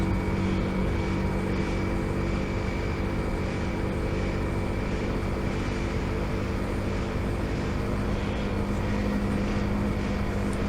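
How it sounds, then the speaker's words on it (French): A small motorbike riding through the countryside, its engine droning in a steady, unbroken hum with dense wind rush, loud and constant for about eleven seconds. "Une petite moto dans la campagne"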